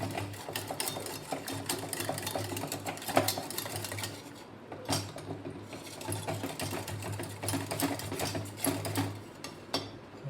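Whisking a creamy white cheese sauce for penne pasta, the whisk clattering rapidly and steadily against the pot in a continuous close-up rattle with small scraping accents.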